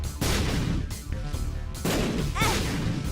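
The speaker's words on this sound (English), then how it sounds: "I blew myself up, you can ignore that." Explosions in The Binding of Isaac: Rebirth, a loud run of broadband blasts and crashes bursting out about every half second to second, dense and close, with no talking.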